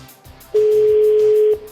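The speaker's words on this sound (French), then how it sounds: "Trois sonneries." A French telephone ringback tone sounds while a call is being placed: one steady, loud single-pitch tone lasting about a second, clearly heard over faint background noise.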